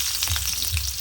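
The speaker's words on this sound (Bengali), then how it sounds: "এর মধ্যে আমি আলুগুলো কষে নেব" Potatoes sizzle and fry steadily in hot oil in a pan for a sour fish curry, a close, continuous crackling hiss with faint stirring.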